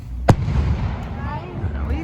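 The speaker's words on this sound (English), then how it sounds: "We trying to see the fireworks." A single close, sharp firework bang goes off at an outdoor wedding celebration, followed by crackling and rumbling noise. Voices chatter in the background.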